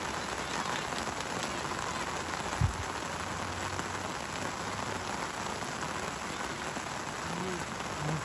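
Steady rain pours down at an outdoor youth soccer match, a dense constant hiss throughout with a brief low thump near the middle and faint voices in the background.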